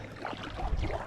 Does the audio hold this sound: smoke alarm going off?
no